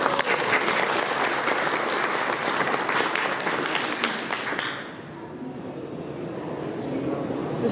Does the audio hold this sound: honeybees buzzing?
no